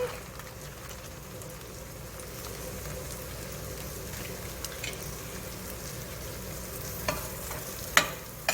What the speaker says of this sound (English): I'm now adding the rice, and I'm going straight from the bag